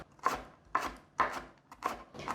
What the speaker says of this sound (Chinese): 把红萝卜换一个方向切成小碎丁。